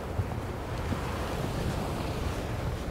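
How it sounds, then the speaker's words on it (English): Choppy waves wash and slap on open water while gusty wind buffets the microphone, a dense, steady roar close by with no voices. "So the water is actually really wavy today."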